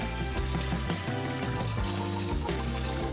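Lukewarm water mixed with sodium percarbonate, used to soak out a coffee stain, pours and splashes steadily and close up, a continuous watery rush with no talking.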